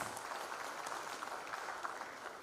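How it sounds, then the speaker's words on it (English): Applause for dignitaries at a maritime roadshow and workshop, a dense, steady wash of distant crowd clapping that holds evenly throughout without clear individual claps. "can we have a big round of applause for all our dignitaries, please?"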